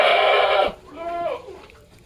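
A Peranakan Etawa goat gives a clear, close bleat lasting under a second, heard just after a burst of loud noise, with faint farm background sounds around it.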